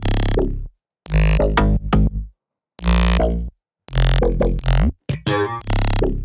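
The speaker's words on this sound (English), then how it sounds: "So these basses, they sound like this." Deep synthesized bass notes in short punchy bursts separated by brief silences, with pitch slides bending between notes, loud and up close.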